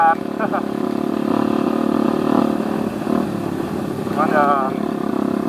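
Several motorcycles, including Kawasaki Ninjas and a Honda CBR, ride together on a road in rain, engines droning steadily with revving surges, close and loud, while people talk over them.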